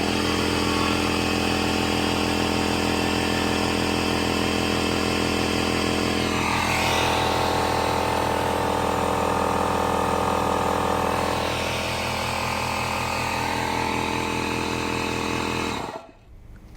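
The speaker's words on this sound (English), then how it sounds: "And then I tried it out on a pancake compressor." A pancake air compressor powered by an Anker 757 power station runs loudly and close with a droning, pulsing motor note that strains and shifts in pitch, then cuts off abruptly just before the end.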